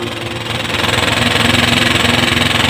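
A Honda TMX motorcycle engine converted to 150cc runs close up, with a steady rapid chugging pulse and mechanical rattle that swells slightly in loudness over the first second before holding even.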